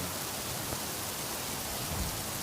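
Heavy thunderstorm rain in a video game pours in a steady dense hiss with a low rumble underneath, loud and continuous, and no voices.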